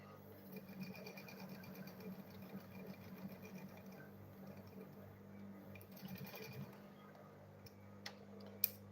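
Sewing machine stitching the seam of a fabric lunch bag, its steady mechanical whir running continuously throughout, moderately close, with a few sharp clicks near the end and no talking.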